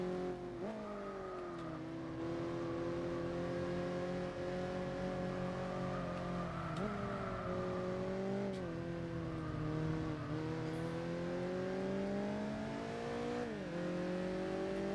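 Engines roar continuously as cars race and overtake in Gran Turismo 4, Nissan Skylines among them, with revs climbing and dropping through gear shifts, loud and close, with no one speaking.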